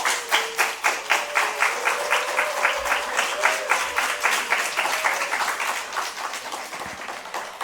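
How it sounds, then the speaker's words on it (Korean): Church congregation at a Friday evening service claps in unison to welcome the pastor, a loud, regular rhythmic beat of many hands repeating steadily for several seconds. "오늘 오신 목사님 나오실 때 큰 박수로 환영해 주시기 바랍니다."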